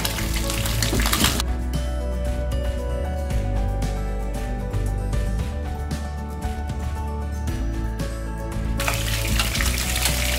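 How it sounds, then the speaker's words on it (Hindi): Fish shallow frying in oil in a pan for a masala fish curry, a loud steady sizzle and crackle that fills the whole stretch, with a brief muffling as a cover goes on. "इसको शैलो फ्राई करेंगे, इसको डीप फ्राई नहीं करना।"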